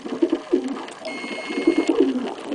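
Racing pigeons in a loft coo in soft, repeated low throaty phrases, close and steady, with other birds murmuring in the background.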